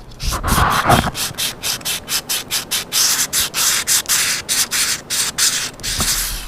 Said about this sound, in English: I'm just using some sandpaper to lightly sand that and get that stuff off